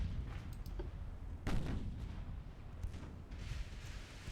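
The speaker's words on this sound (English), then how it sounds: "As my guns decided to shoot at some heavy cruisers instead." Naval guns fire at heavy cruisers in Ultimate Admiral Dreadnoughts, heard as a few dull distant booms and a rumbling report over steady low battle noise, with no talk.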